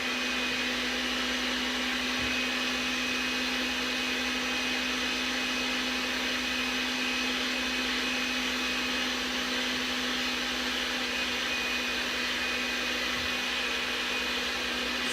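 An electric mixer whirs steadily while blending egg, flour and olive oil into ravioli dough, a constant loud motor drone holding one pitch with a couple of faint knocks.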